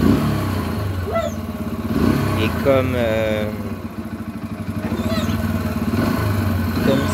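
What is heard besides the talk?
Yamaha XT125X four-stroke single-cylinder motorcycle engine running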